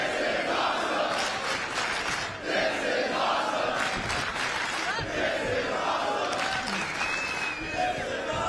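Dense arena crowd at a Las Vegas wrestling match, roaring, clapping and chanting in loud waves, with a commentator's voice running over the noise.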